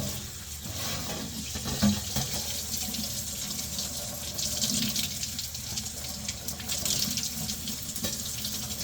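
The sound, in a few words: rinsing Saluda Mist X cymbals under running tap water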